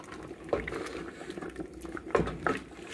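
Red peppers and tomatoes simmer in a pot, giving a soft bubbling patter with a few louder pops and splutters, fairly close and quiet.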